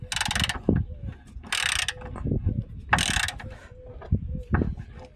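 A hand ratchet tightening the bolt on the pulley of a Renault Talisman during an accessory belt and damper pulley change, several bursts of rapid clicking separated by short pauses, close and loud.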